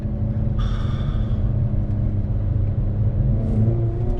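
A 2019 Hyundai Veloster N accelerates with a steady low rumbling drone from inside the cabin and a brief higher whine early on, heard close and without speech.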